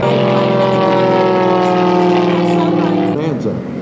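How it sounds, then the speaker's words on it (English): A replica Zero propeller airplane roars past at an airshow, a loud sustained engine drone with strong harmonic tones that shift downward as it passes by toward the end. "Doug has been around for many years in this replica Zero."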